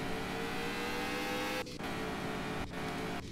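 A car in Car For Sale Simulator 2023 driving under steady engine drone, with a few brief dips in the sound as the throttle is floored, heard close and continuous with no talk.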